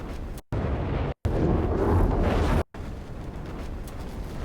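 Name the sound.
layered fire sound effect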